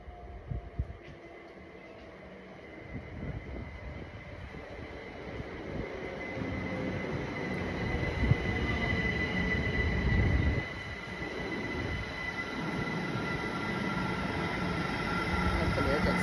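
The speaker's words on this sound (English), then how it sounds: "Now here comes my train." A train pulls into a station, its wheels squealing in a long, steady, high-pitched whine over a low rumble that builds and holds, fairly loud, with faint voices in the background.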